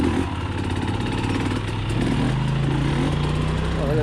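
A 2020 KTM 300xc TPI two-stroke dirt bike idles roughly and unevenly after being drowned, a steady close putter with a slight rise in pitch partway through.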